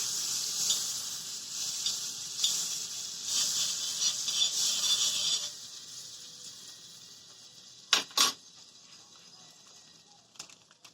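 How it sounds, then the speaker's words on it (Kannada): Butter sizzling and frying in a hot pan while making cheese bread toast, a steady bright hiss for about five seconds that then fades, followed by a couple of sharp clatters near the end. "ಇವಾಗ ನಾನು ಬಟರ್ನ ಹಾಕೊಳ್ತಾ ಇದ್ದೀನಿ."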